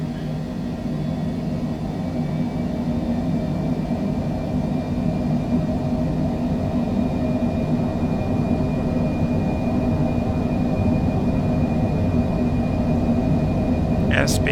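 Citation Longitude business jet engines spool up to full takeoff power in a flight simulator, a steady, loud rumbling roar with a thin high whine held constant, ending with a short click.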